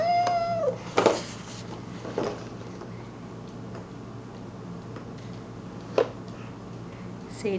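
A few short, close meows from a cat, spaced apart over steady ticking and low background hum.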